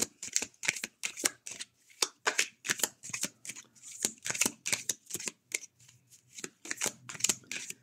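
Oracle cards being shuffled by hand in a rapid run of crisp, papery riffles and slaps, close and fairly loud, repeating steadily with no talking.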